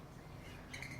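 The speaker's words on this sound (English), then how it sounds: "You can hear all your buddies, can't you? They're right underneath you." Birds chirp outside, small high tweets arriving briefly near the end over a faint, low background.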